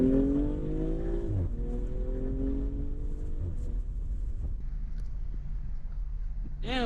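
A 2020 BMW M340i driven in Sport Plus mode, its engine note rising through the gears with sweeping harmonics and a gear change, then settling into a steady drone under wind noise, with a sharp rev near the end.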